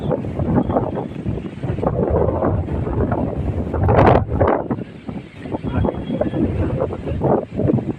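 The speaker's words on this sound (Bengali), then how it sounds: "অনেক বাতাস।" Strong wind buffets the microphone in loud, rumbling gusts that swell and ease over several seconds beside a fish pond with mango trees; no clear speech stands out.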